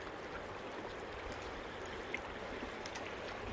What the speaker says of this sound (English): The banks of the river here at Bighorn.